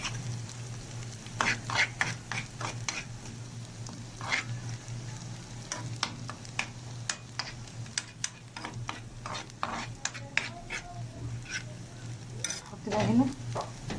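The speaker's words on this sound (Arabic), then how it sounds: "حطيت هنا معلقه سمنه اهو، وحطيت كمان معلقه كده من الثوم كبيره اهو. ونقلب بقى في الثومه لغايه ما ايه تاخد لون معانا" Chopped garlic fries in a spoonful of ghee in a pan, with a continuous soft sizzle and repeated scraping and clinking as a spoon stirs it. A low hum runs underneath.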